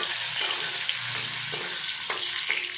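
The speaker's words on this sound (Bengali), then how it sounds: "তেলে প্রথমে দিয়ে দিলাম আমি আলুগুলোকে আমি লাল লাল করে একটু ভেজে নেব" Potato pieces fry in hot oil, giving a loud, continuous sizzle that fills the whole stretch, with a few faint clicks on top and no voices.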